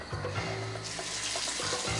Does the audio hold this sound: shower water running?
yes